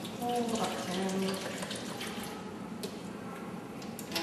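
Vinegar being poured into a bottle for a home volcano experiment gives a soft, steady trickle of liquid, faint and close, running for a few seconds.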